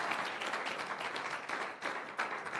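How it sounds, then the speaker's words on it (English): An audience at a public lecture of the PSN Board of Fellows claps for an invited doctor, a steady wash of many hands lasting a couple of seconds at moderate loudness, with no voices over it. "Please clap for him."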